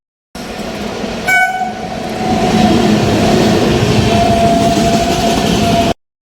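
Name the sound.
train passing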